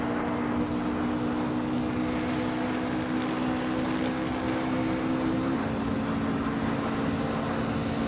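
A 1996 Osella PA21 race car with a Honda engine drones steadily in a racing game, a sustained buzzing engine tone that drops slightly in pitch partway through, alone and fairly loud.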